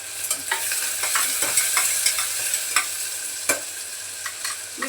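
Tomato pieces and a bay leaf sautéing in a pan, with a close, steady sizzle broken by repeated spatula scrapes and clicks as the mix is stirred; no voices.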